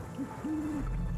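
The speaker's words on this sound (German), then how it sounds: "Da ist eine Eule." An owl hoots in the hidden-object puzzle game Dark Parables 10, a single clear two-part call with a short note followed by a longer sustained hoot, alone over a low ambient hum.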